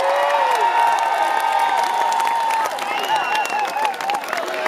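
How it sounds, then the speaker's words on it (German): A stage audience at a German music show applauds and cheers as a singer is welcomed, steady loud clapping with whoops and crowd noise, with some bright tonal sounds in the mix. "Ich würde mich wahnsinnig freuen, wenn ihr mal einen riesen, riesen Applaus zukommen lasst."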